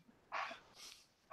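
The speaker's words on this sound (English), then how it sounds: "that barking's coming from that in the ceiling" A few short, sharp barks with a slight yelping quality, two close together then another after a pause, fairly near against a quiet background.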